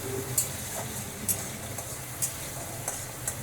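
Potatoes frying lightly in oil in a pan, a faint steady sizzle with a few soft periodic clicks of a utensil, close and quiet with no speech.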